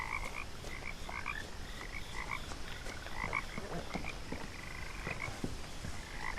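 Frogs croak near a quiet house in a secluded spot, repeated short chirping calls overlapping in a steady chorus over a constant noisy background, with no voices.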